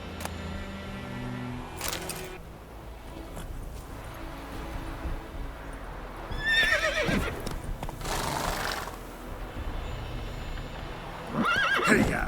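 A horse whinnies loudly in The Witcher 3: Wild Hunt, with hoof clip-clop and bursts of game ambience around it, the neigh returning briefly near the end.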